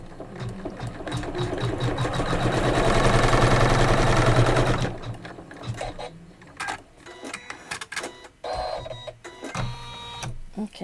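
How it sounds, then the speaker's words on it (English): A computerized embroidery machine stitches a seam joining two pieced quilt blocks for a pillow, a fast loud rhythmic needle hammering that runs steadily for several seconds, then breaks into shorter stop-start bursts. "we're going to stitch number 5 of the embroidery file, which is going to seam these 2 together"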